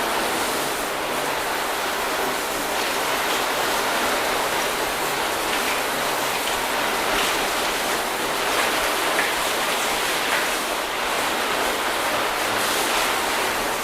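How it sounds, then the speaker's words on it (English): A garden hose rinses water over a car freshly treated with ceramic coating products during its first wash, producing a loud, unbroken spray hiss that holds steady throughout with no speech. "So grab the hose and let's just rinse that down."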